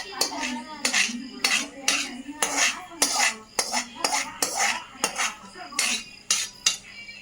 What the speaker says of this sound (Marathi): आपण गॅसवर आता कढई ठेवलेली आहे